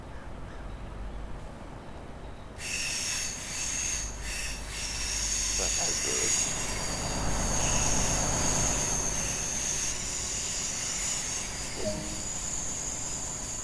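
A 612 diesel railcar in Train Sim World 2 on the Tharandter Rampe route runs with a steady rumbling drive and a thin high whine that rises and swells. A few faint knocks are heard, with brief talk over it.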